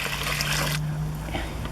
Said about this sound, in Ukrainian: обов'язково треба залити хоча б відра два води